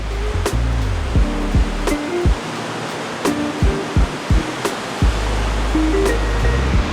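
Ocean surf on the Gold Coast in Australia: a constant broadband wash of breaking waves, loud and close, with intermittent wind buffeting and knocks on the microphone.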